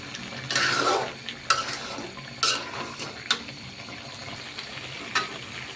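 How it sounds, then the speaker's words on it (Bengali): Beef with spices is stir-fried in a pan, with bursts of loud sizzle and repeated spoon scrapes against the metal in an uneven rhythm. "আমি মাংসগুলো এখন কষাচ্ছি"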